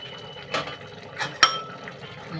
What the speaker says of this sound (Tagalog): Takpan ulit natin.